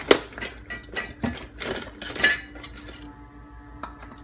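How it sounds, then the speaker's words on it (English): A small metal whisk clinks and scrapes against a pot of tomato sauce and water for a crawfish étouffée, quick irregular rattling strokes up close that fade to a quiet hum near the end. "I'm going to use a little whisk real quick."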